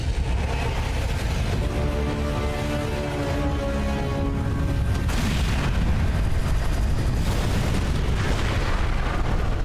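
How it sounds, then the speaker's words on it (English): An animated explosion sound effect from a Skibidi Toilet episode rumbles loud and heavy, with a deep sustained boom, a sharp burst midway, and a long roaring tail. "Jesus, that explosion."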